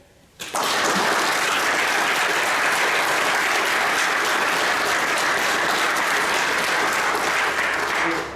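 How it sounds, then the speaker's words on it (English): Loud, sustained audience applause for families at a military change of command ceremony, starting abruptly and holding steady for about eight seconds with no talk over it. "I would like to have everybody give a round of applause to the families here today"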